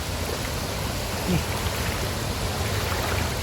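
Water from a waterfall stream rushes in a steady, dense hiss, close and constant with no talk.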